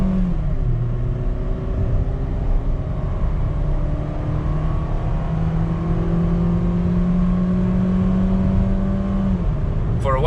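A 2021 Mitsubishi Xpander with a 1.5-litre MIVEC engine accelerates hard from inside the cabin, its engine note rising steadily through a long pull, loud and continuous, with a brief shift near the start.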